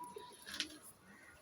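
A pigeon gives one soft, brief coo inside a loft, faint and close, with low background hum.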